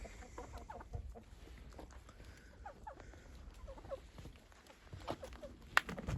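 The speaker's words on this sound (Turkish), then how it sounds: "Bugün yine karma tavuklarımızın yanındayız." Mixed-breed chickens cluck and squawk in overlapping bursts inside a coop, fairly close and moderately loud, with shuffling and scratching noises in between.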